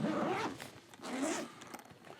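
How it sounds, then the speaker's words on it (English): The zipper on a DJI RS2 gimbal carrying case is pulled open in two drawn-out rasping strokes, close and clear, followed by faint handling noise. "We unzip it here"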